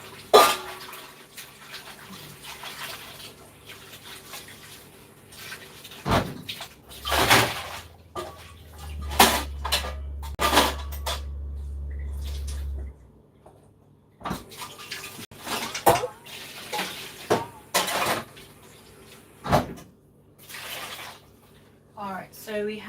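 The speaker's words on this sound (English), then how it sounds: "So here we have some onion, garlic, ginger. We're gonna wash that up." Onion, garlic and ginger are rinsed under running water in a home kitchen, a steady splashing stream lasting several seconds amid close knocks, clatter and handling sounds.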